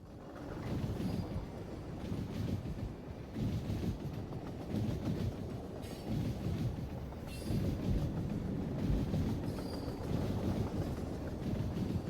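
A train in the video game Planet of Lana 2 runs with a steady rumbling, rattling roll and windy rushing that surges in waves, alone and fairly loud throughout.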